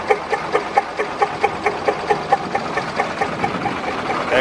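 A bus engine with a strange misfiring fault, giving off white smoke at the exhaust, knocks close by in a regular, evenly spaced pulse about three to four beats per second over a low running hum. No one speaks.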